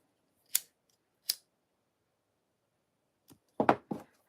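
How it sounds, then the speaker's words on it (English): Scissors snip material for a handmade flower keychain: two sharp isolated cuts, a pause, then a short cluster of closer snips, quiet and alone in the room. "We're going to cut this off."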